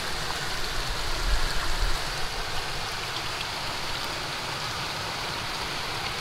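Steady rushing water of a small waterfall by a bridge at the end of a canal, a continuous broadband wash heard close and alone with no talking.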